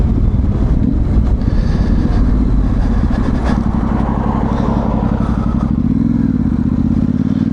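A Yamaha Tenere 700 motorcycle on a local road ride, its engine droning loud and close with steady low rumble, a shift in pitch near the end as the revs change.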